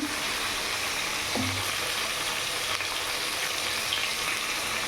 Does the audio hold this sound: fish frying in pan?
yes